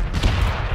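A brief burst of video game gunfire in PUBG, a rapid volley of close, loud shots over muffled rumble.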